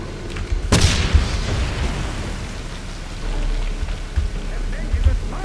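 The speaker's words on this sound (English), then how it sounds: "this grenade, let's move" A grenade blasts in the Wolfenstein (2009) video game with one sudden close boom, then a rumbling, rain-like crackle of debris that fades over several seconds.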